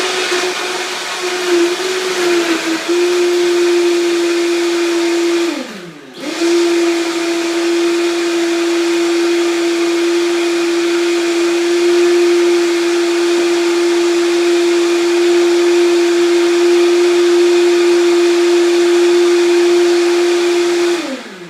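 A Vitamix blender runs on a green smoothie with a loud, steady high whine, briefly cutting out and restarting around a third of the way through, then holding until the motor winds down.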